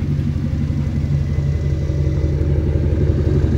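A Dodge Ram pickup's Hemi V8, about 160,000 miles, idles with a deep, steady exhaust rumble, loud and close throughout.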